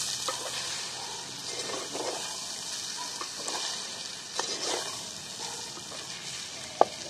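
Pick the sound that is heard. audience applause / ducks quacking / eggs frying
eggs frying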